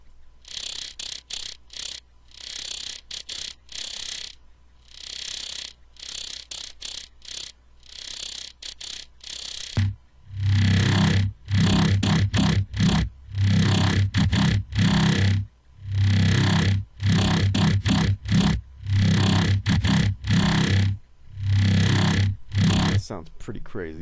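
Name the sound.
squelchy synthesized bass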